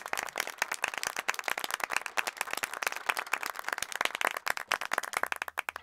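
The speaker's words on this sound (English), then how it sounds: "A round of applause," An audience gives a round of applause for a brave young volunteer at a dolphin show, with steady, dense hand-clapping that continues evenly for several seconds with no voices over it.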